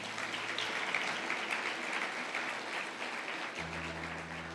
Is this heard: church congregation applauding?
yes